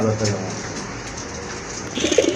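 A racer pigeon coos in a few soft, low calls, close by, while someone talks over them and birds rustle and flutter faintly in the background.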